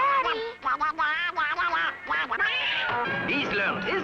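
A cartoon duck in a Disney animation quacks and squawks continuously in a loud, nasal, warbling stream of rapid, expressive calls.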